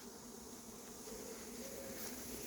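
A runaway honeybee swarm, recovered at Ozoir-la-Ferrière, hums in a steady, dense drone that stays even and continuous throughout, moderately loud with no voices.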